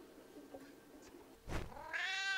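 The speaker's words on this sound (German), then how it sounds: "Ach, Katze. You stupid cat." A cat meows once, loud and close, a drawn-out wail in the horror game Downfall, following a faint creak and a short burst of noise.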